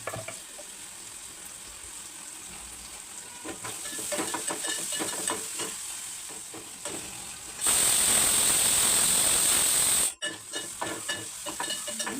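Onions sizzle and hiss steadily in a hot pan, stirred now and then; a louder, brighter burst of frying swells for a couple of seconds before dropping back to a gentle crackle.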